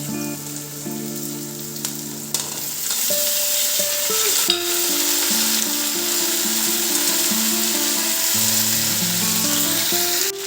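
Chicken and potatoes fry and are stirred in a pan, a steady loud sizzle running throughout with scraping stir strokes, while tonal background music plays underneath.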